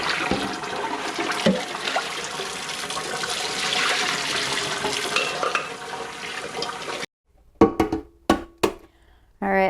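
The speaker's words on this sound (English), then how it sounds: "I'm going to put cold water in there and dump it out and change out the water so it's cold" Cold tap water rushes steadily into a pot of freshly boiled eggs to cool them, then cuts off and gives way to a few sharp clanks and splashes as the water is dumped and changed.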